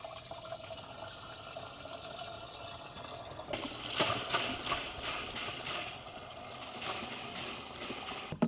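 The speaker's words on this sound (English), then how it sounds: "I'm going to pour it through the strainer that I still have installed in the top here." Nutrient solution is poured through a strainer into a Flowzone Typhoon 2 reservoir, a quiet trickle first, then a louder splashing flow of liquid with small clinks, steady until the end.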